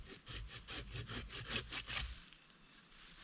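Hand saw cutting through wood while trimming at a hammock campsite outdoors, with about ten rhythmic back-and-forth strokes for two seconds before they stop, leaving quiet ambience.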